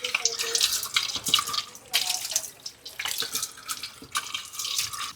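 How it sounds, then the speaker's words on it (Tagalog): Water runs steadily from a tap at a campsite overlooking rice terraces, a close, continuous splashing rush with shifting intensity and no talk over it. "Malakas ang tubig."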